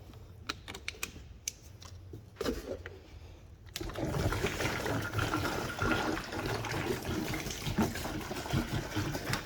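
A UTV sprayer nozzle pushes out pink antifreeze during winterizing of a 65-gallon tank: a few sharp clicks and ticks, then a sudden steady hissing spray that continues loudly to the end.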